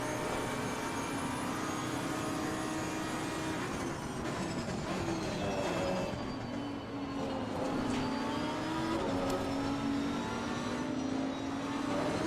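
Lamborghini Huracan Evo GT race car in Assetto Corsa Competizione at Imola, its engine droning steadily at high revs with shifting pitch as it chases a Bentley, loud and continuous with no talk.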